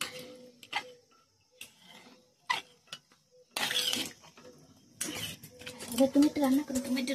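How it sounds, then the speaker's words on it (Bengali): A metal spatula clinks and scrapes against a cooking pan as salt is stirred into food, giving irregular close ticking taps between quiet gaps while someone talks. "দেখো আমি এখন এটা নাড়াচ্ছি, এটা ভালো করে নাড়িয়ে দিতে হবে"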